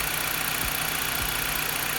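A used LKQ replacement car engine with roughly 36,000–38,000 miles idles steadily up close, a continuous low mechanical hum with a couple of brief dips in pitch, no talking.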